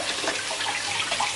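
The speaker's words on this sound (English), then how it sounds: "Just rinse it off with water." Running tap water rinsing a leek in a kitchen sink, a steady broadband splashing stream that holds for the whole short stretch, fairly close and with no talk over it.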